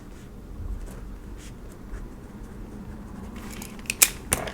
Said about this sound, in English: Let me go ahead and write that down real quick.